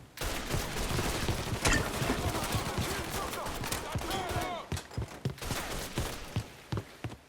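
Rapid gunfire rattles through a Mafia 3 shootout, with dense volleys of sharp, close shots and later separate cracks, loud and nearly continuous.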